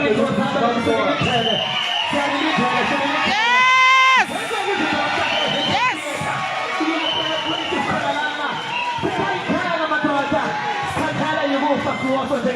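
A large crowd at a funeral gathering cheers and shouts in a sustained roar, with a loud, rising, whistle-like cry near the middle and voices calling out throughout.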